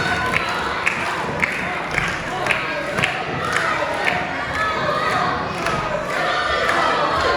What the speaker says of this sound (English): Crowd behind Isaac though